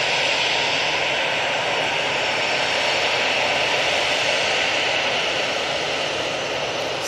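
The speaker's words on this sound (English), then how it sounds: "Next out, we have this EasyJet going off to Murcia. Using an A320-200 for this flight." An EasyJet Airbus A320-200 departs Manchester Airport bound for Murcia, its jet engines a loud, broad, continuous roar that holds steady throughout with no voices.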